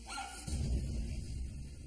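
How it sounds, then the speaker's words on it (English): A dog barks in short, loud bursts up close amid a chaotic scene with other dogs, the yapping continuing steadily through the moment. "a dog that's constantly barking and create a chaotic situation with other dogs"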